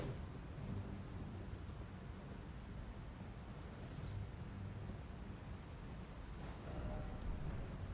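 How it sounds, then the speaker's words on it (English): Steady rain with a low rumble of thunder in a video game at early morning, a dense hissing wash that stays even throughout, faint and without any voices. "Oh, it's in early morning that it's raining like that."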